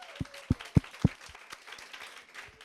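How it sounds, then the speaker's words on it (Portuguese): Scattered applause at a women's gathering, the Matildes meeting, with a few loud, separate claps early on that thin out into a faint, sparse patter under a quiet room. "É realmente uma salva de palmas aqui para a Antônia."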